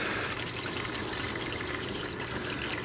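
Water runs and trickles steadily in a home fish tank, a continuous close splashing wash with no pauses and no voices.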